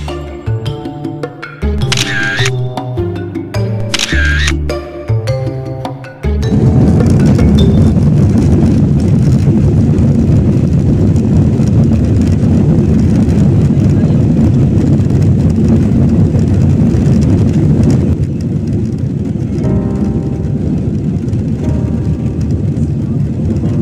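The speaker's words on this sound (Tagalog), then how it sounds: "lumipat na ang eroplano" An airplane roars steadily and loudly on takeoff, a broad continuous engine rush heard from inside the cabin after a few seconds of clicking and tones, with no talk.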